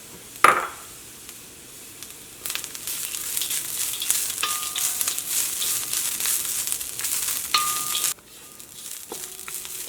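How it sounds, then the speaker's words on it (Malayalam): Grated coconut and peanuts fry in a hot pan for a tomato curry, a steady loud sizzle broken by scraping stirs and a clank of the spoon near the start, with no talking. "അപ്പോൾ തേങ്ങയും കപ്പലണ്ടിയും ഇട്ട് കഴിഞ്ഞിട്ട് ജസ്റ്റ് ഒന്ന് ഇളക്കുക."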